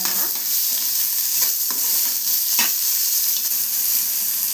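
Cumin and spices roast in a dry pan, making a steady bright hiss while a spoon stirs and scrapes a few times, close and continuous without any talk.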